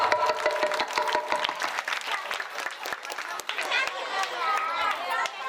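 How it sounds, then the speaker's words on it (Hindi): Village audience at a Mahabharata leela performance breaks into applause, a steady stretch of crisp, fairly close claps with some voices in the mix. "जोरदार ताली बजाओ"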